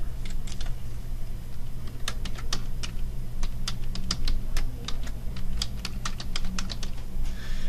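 Username and password entered on a computer keyboard, heard as a steady run of crisp, close key clicks with uneven rhythm and no talking.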